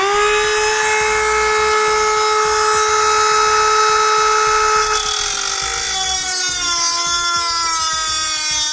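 Power tool cutting a square hole in a steel car frame rail, a loud, steady, high-pitched whine that holds for several seconds, then shifts and drops slightly in pitch as the cut progresses, close and continuous with no talking.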